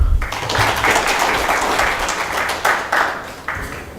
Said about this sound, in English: With a thunderous applause